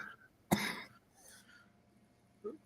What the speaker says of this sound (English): Glenn's got a bad cough.